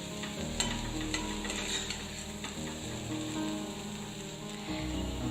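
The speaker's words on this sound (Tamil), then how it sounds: "உருளைக்கிழங்கு நல்லா ஃப்ரை ஆயிடுச்சு. பாருங்க, கடாயில கொஞ்சம் கூட ஒட்டவே இல்லை." Potatoes fry in a kadai, a soft steady sizzle with repeated scraping and clacking as a spoon stirs them, moderately close and without talk.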